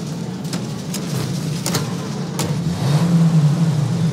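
A car engine hums and rises in the game Mafia Definitive Edition, a steady mid-pitched drone that swells into a louder rev near the end, with a few sharp clicks or knocks along the way.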